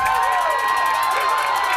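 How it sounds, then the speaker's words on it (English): High school football stadium crowd cheering loudly and continuously after a long run with extra yardage, a broad roar heard up close. "you can hear the crowd's appreciation"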